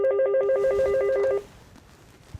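A telephone rings with a repeated electronic trill for about a second and a half, loud and close, then stops, leaving a quiet room.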